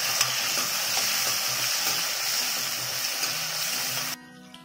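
Chopped tomatoes and curry leaves hiss and sizzle steadily in a hot pan of oil for sambar, a dense continuous frying crackle that cuts off abruptly near the end.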